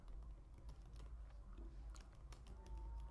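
Typing on a computer keyboard at a desk, heard faintly: a quick, uneven run of soft key clicks over a low background hum.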